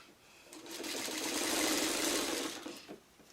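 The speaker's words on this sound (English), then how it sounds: "we're going to sew these two together just like this" A sewing machine joins two quilt pieces for a traditional crumb quilt, one continuous close whirring run of a couple of seconds that swells and then stops.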